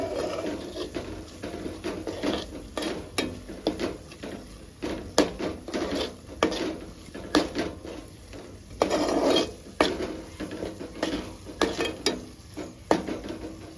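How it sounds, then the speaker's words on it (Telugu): Tomatoes and chili powder frying in a pan for crab curry: a steady close sizzle broken by frequent sharp spoon scrapes and clatters against the pan, with no voices. "ఇదంతా బాగా ఫ్రై చేసుకోవాలి."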